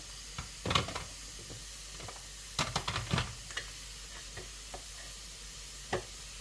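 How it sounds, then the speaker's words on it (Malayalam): Brinjal slices fry in butter in a pan, giving a soft steady sizzle with a few sharper stirring clatters and scrapes at intervals, heard close and alone without talk. "നമ്മളിത് ഫ്രൈ ചെയ്തെടുക്കുന്നതും ബട്ടറിലാണ്."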